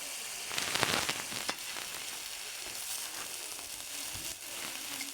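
Eggplant fries in a pan with onions cooked down with ground spices: a steady, close sizzle and crackle, louder at first as the pieces go in, then settling into an even hiss.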